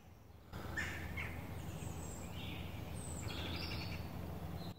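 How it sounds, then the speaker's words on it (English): Bird calls ring out in a quiet woodland, several short chirping phrases and a brief trilled series rising above a low, steady outdoor ambience, heard alone with no talking. "Anybody recognise that bird call?"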